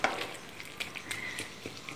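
Cooked lentils for puran poli mashed with a spoon in a pot, soft wet squelches and scattered metallic scrapes and taps at an irregular rhythm, close and fairly quiet.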